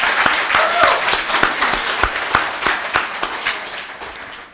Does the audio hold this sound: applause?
yes